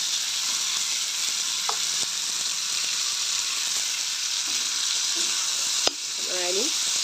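Potatoes and peas sizzling in a pan with light stirring, a steady close frying hiss broken by a sharp clack near the end and a faint distant voice.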